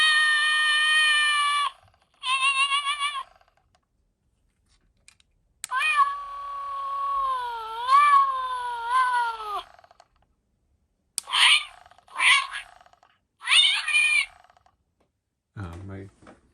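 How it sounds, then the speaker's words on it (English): A Christmas ornament toy plays a series of electronic cat meows, several separate mewing calls with pauses between them, ending with a lower growl-like sound. "it does a whole bunch of cat sound effects."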